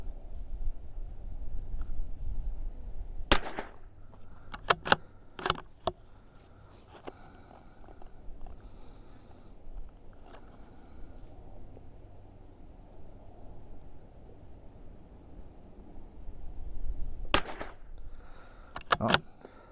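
Sharp, faint rimfire shots from a CZ457 rifle crack out at a distance, a few spaced single reports and a quick cluster, over a quiet outdoor background.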